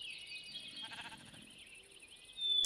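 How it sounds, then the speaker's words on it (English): A sheep bleats in a survival video game, one wavering bleat followed by a faint second call, quiet and alone before a sharp tone at the end. "I just heard a sheep, actually."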